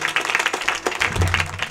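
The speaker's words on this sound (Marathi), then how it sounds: "त्यांच्यासाठी जोरदार टाळ्या वाजवा." Audience applause at a kirtan gathering, a short burst of many hands clapping with a steady dense rhythm, fairly loud and close.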